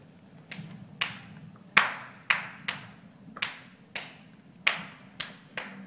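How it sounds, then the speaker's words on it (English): Rumba clap rhythm played by hand clapping at a salsa musicality lecture: about a dozen sharp, close claps in a syncopated pattern with uneven gaps, standing out over a low background hum. "so rumba clap is like this"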